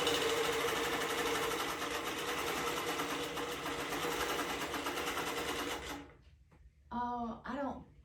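A sewing machine runs a long basting stitch across a quilt top, buzzing steadily and close for about six seconds. It then stops, and brief voices follow.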